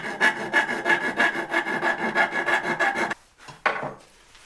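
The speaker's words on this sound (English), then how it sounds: "We could probably almost file it." Hand file rasping on a part while fitting a Givi top case brake light kit: rapid steady back-and-forth scraping strokes for about three seconds, close and alone, then two short strokes.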